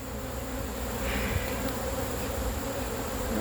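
Honeybees buzz around an open beehive during a hive inspection, making a dense, steady droning hum of many insects close by, continuous with no talking.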